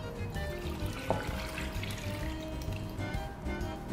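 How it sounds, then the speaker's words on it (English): A whisked tomato paste mixture is dumped into a pot for stuffed grape leaves, giving a close, continuous wet pouring and splashing sound with a few drips, no talking. "we're actually going to dump this into the pot"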